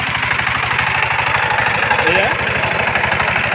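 A tractor engine runs at a steady idle, its low, even thumping pulses continuing throughout, with a voice speaking briefly over it.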